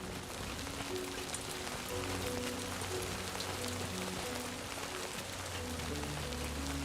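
Steady rain patters continuously over a low droning hum in Death Stranding 2, an even, unbroken hiss of falling drops with no voices.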